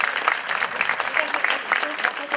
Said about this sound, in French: vos applaudissements pour Maxime Kahn